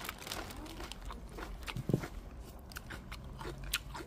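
Someone bites into homemade Jeolla-style kimchi with Napa cabbage, giving a few soft close crunches and moist chewing sounds at low volume, with one sharper bite near the middle.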